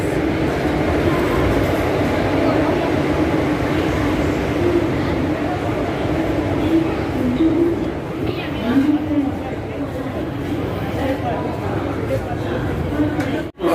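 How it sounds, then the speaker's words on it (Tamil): A train pulls into platform 3 at Tirupati railway station, its steady, loud rumble and rolling rail noise filling the scene alongside general platform bustle and voices. "நம்ம திருப்பதி ரயில்வே ஸ்டேஷனில் பிளாட்ஃபார்ம் நம்பர் 3ல் இருக்கோம். ஸோ வண்டி வருது, வாங்க பார்ப்போம்."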